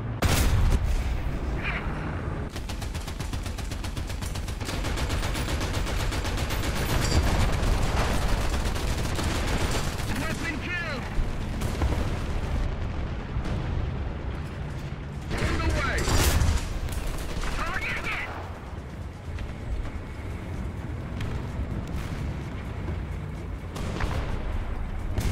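An American heavy T34 tank in a video game battle, its machine gun rattling amid heavy explosive booms and rumbling cannon blasts, loud and continuous with repeated bursts and impacts throughout.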